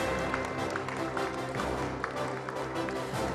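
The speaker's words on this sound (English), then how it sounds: "Let's give them a big round of applause." Conference audience at an investor day event applauding, a dense, continuous patter of many hands clapping with a low background hum, steady and moderately loud.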